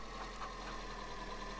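A tractor engine in Farm Together idles with a steady, low rumbling hum, faint and continuous with no talk.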